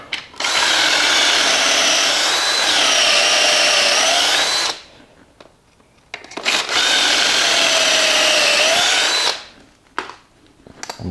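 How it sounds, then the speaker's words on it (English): Power drill driving a screw into a Kreg pocket hole jig, two sustained whirring bursts of about four seconds each with a brief pitch shift partway, separated by a short quiet gap with faint handling clicks. "You can basically just drive a screw into it."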